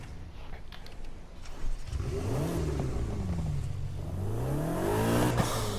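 A Ferrari 488 GTB's exhaust in Need for Speed Heat, heard at a garage customization screen: the engine is quiet at first, then revs rise and fall in a steady, loud drone, with no talking.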